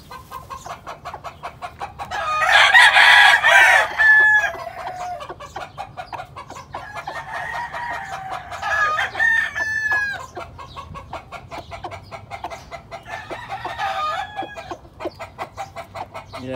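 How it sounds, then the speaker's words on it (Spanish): A claret gamecock rooster crows loudly several times, long strained calls, amid a backdrop of clucking and other roosters crowing in the distance. "Mira, aquí le tenemos un gallo clarete."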